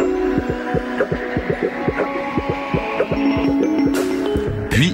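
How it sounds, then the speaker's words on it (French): An automated factory machine joins two pantyhose tubes into one garment, its rapid rhythmic thumping pulses repeating close and loud over a steady mechanical hum, with no voices. "Cette machine automatisée réunit les deux tubes ensemble pour former le bas-culotte."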